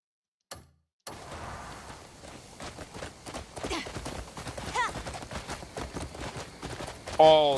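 Horse hooves gallop in the open-world video game Crimson Desert, a fast run of clip-clop beats that builds after a short silent gap, with other game sounds around it.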